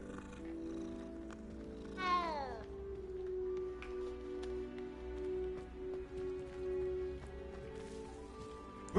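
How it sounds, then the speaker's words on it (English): A cat meows in the Hogwarts Legacy video game, one rising then falling call partway through, heard over steady game music and ambient tones. "Kitty, cat."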